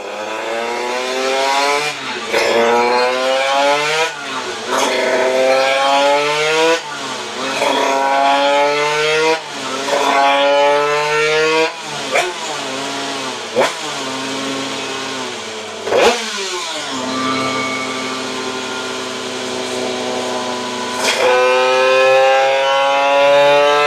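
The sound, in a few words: scooter engine revving with new exhaust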